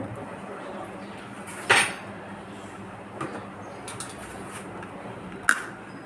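A couple of sharp metallic clanks as a pan is set down on a stove, with softer knocks in between over a quiet room background.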